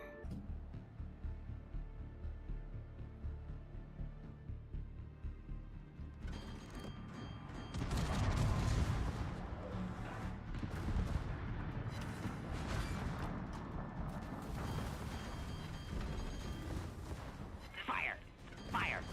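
Warship guns fire in World of Warships with heavy booming salvos and a dense rumble that swells midway and holds, while someone shouts over the gunfire.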